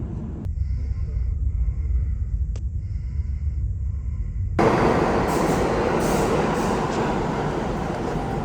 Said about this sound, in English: Here we go, here's our train.